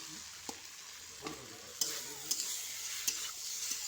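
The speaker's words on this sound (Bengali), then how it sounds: "ধনিয়া পাতা অ্যাড করে দিয়ে আমি ভালো করে একটু ভেজে নেব" Spice masala with coriander leaves frying in a pan for a pumpkin dish, a steady soft sizzle with a few sharp stirring clicks spaced through it.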